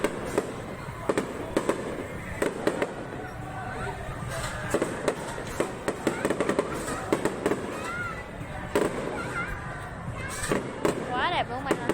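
New Year's Eve fireworks burst overhead in a rapid, irregular string of sharp cracks and booms, some near and loud, others fainter, with people talking and exclaiming throughout.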